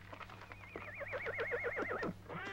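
A horse gives a single long, quavering whinny that rises and trembles for about a second and a half before breaking off, heard close up over a low steady hum.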